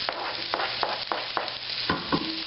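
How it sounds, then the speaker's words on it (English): Onion hitting a hot pot for Creole white beans gives a steady sizzle and frying hiss, with several sharp stirring scrapes and clanks spaced through it, close and fairly loud. "in goes the onion"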